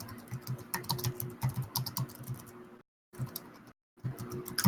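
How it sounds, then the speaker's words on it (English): Loud typing on a computer keyboard sitting right beside the microphone, rapid close clacking keystrokes in quick bursts, broken by two brief silent gaps. "I'm probably typing super loudly."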